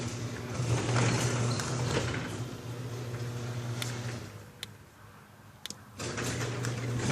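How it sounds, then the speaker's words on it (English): Garage doors open with a low, steady mechanical hum and drone that carry for several seconds, then thin out and return, with a couple of faint clicks along the way. "I accidentally popped open the garage doors."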